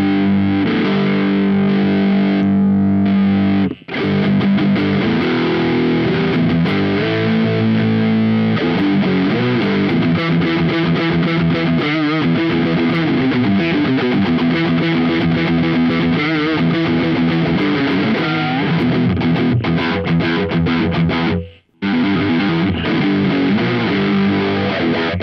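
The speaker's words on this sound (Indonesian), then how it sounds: "Terus saya perlu distorsi tambahan" Electric guitar played through an amp with an added distortion pedal, dense sustained chords and lead lines for a solo, loud and continuous apart from two short breaks.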